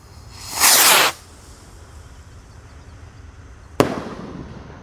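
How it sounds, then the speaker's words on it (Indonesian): Gold Dragon Roman Candle firework launching, a loud roaring hiss about half a second long, then a quieter stretch and a single sharp pop with a fading crackly tail, heard up close outdoors. "Oke, kita nyalakan roket Roman Candle."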